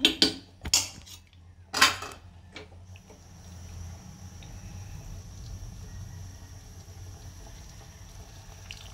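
Pork sinigang gets stirred in a cooking pot: a few sharp metal clanks of a spoon against the pot come at the start, then a quiet bubbling simmer continues alone.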